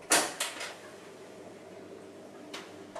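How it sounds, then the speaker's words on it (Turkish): A door is opened in a house at night with a few quiet, sharp clicks and knocks close together, then a single faint click a couple of seconds later against near silence. "Karısı tedirgin kapıyı açar."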